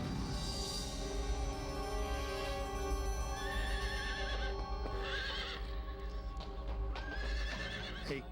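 A horse neighs in a shrill, drawn-out whinny, followed by a second whinny and hooves shuffling and clopping close by, with no talking over it.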